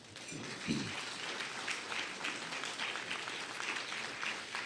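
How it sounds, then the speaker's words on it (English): Audience applause at a conference keynote, a steady moderate wash of many hands clapping from across a hall, continuous and without talk. "I really appreciate that applause"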